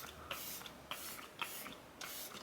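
Several soft hissing sprays of makeup setting spray, around four bursts with short gaps between them, close but quiet, with no voices.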